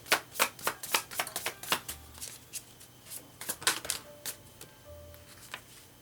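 Tarot cards shuffled and slapped down in a quick, uneven run of crisp riffling clicks and flicks, close and fairly quiet, with no talking.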